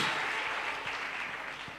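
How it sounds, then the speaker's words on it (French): Congregation clapping in praise during a healing church service, a dense steady wash of applause across the whole short stretch, moderately loud and fairly close. "give Jesus a clap and praise the Lord"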